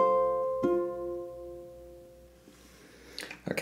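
Ukulele strummed and plucked through bars of a Spanish-style melody, a ringing chord that decays over a couple of seconds before fresh strums, close and clear with no voice.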